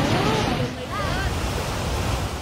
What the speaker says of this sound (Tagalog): Umagos sa mabatong ilog ang kulay abong tubig na yan mula sa Padudusan Falls sa Canlaon City sa Negros Oriental.